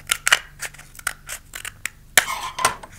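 Scissors snip through a cardboard toilet paper roll tube in a quick series of short, crisp cuts, close and fairly loud, with no talking.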